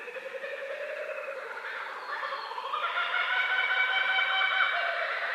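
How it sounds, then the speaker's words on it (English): A kookaburra's rising, laughing call builds steadily, dense and fairly loud, with no other sounds around it. "Kookaburra."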